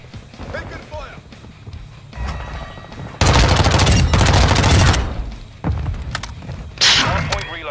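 Gunfire in the video game Call of Duty Modern Warfare 2: loud, rapid bursts of automatic shots close by, one sustained volley followed by shorter bursts, with radio-style voice lines between them.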